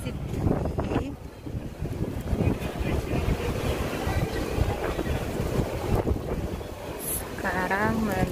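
Hot-weather wind gusts outdoors near a station exit in Hong Kong, a steady broadband rush of microphone buffeting running throughout, loud and close, with a brief bird-like chirp near the end.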